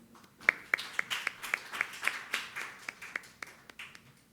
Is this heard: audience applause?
yes